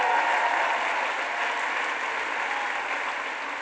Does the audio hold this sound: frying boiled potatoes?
no